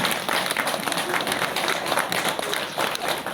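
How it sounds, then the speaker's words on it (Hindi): An audience at an award ceremony breaks into loud, sustained applause, dense clapping that holds steady throughout with a few voices mixed in. "प्लीज एक बार जोरदार तालियां हो"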